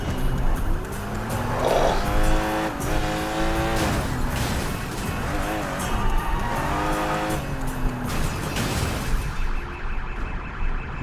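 A car rams and skids in Sleeping Dogs, with engine revs rising and falling under repeated tire squeals through a long, busy driving sequence, loud and close.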